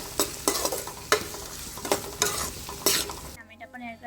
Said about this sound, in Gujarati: ડુંગળીને બે મિનિટ સુધી શેકાવા દઈશું થોડી કચરી ચડી જાય ત્યાં સુધી શેકાવા દઈએ